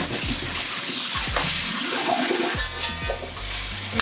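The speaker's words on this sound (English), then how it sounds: "give it a good rinse under cold water" Cold water gushes steadily from a tap onto clams in a strainer, with a constant rushing spray and occasional low thumps of something being handled under the stream.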